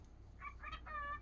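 A pet bird vocalizes indoors, a short, fairly faint series of three squawky, clucking chirps in under a second, heard alone against a low steady hum.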